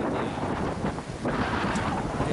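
Strong wind buffets the microphone in a constant, rough roar on a Busan-area shore while fishing for hairtail, with no voices.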